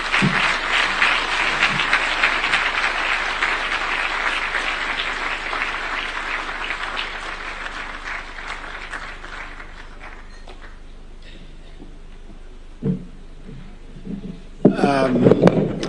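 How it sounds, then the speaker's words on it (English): A large crowd at a Kenyan prayer gathering with an American preacher breaks into loud, sustained applause that gradually thins and fades, with scattered claps and a few voices near the end. "I think the round of applause you gave him is not sufficient"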